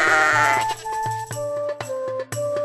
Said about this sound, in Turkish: Babasının koyunlarını güdüyordu.